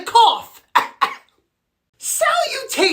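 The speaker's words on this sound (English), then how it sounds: "The only other sign would be a cough." A single voice gives a few sharp coughs close to the microphone, one after another, then breaks into a rougher throat-clearing burst after a short silence.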